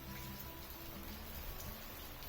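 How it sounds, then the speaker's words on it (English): Heavy rain pours steadily onto surfaces at a boatyard workshop, a dense unbroken hiss of drops close by with no voices. "It's raining cats and dogs here."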